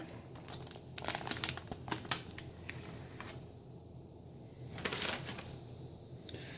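A 3.5-ounce foil-sealed food pouch holding a cinnamon-roll-like pastry and an oxygen absorber is torn open, giving close crinkling and ripping bursts, sharpest near the end, with no talk.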